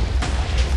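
A loud, rumbling burst of explosions in Minecraft, low and booming with a noisy crackling tail, heard without any talking.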